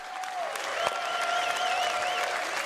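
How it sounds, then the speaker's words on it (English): Audience applause at a live gaming convention keynote, steady and sustained, with a few sharp hits and a tonal whistle or electronic tone weaving over the clapping. "I want to do one more round of applause for all the CTG guys who got up here and"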